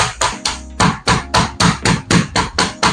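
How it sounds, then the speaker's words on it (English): Boneless chicken pounded flat on a kitchen board, struck ten times in a steady, close, loud rhythm of sharp thuds about three per second, with no talking. "we're just going to pound it to just get a flatter surface"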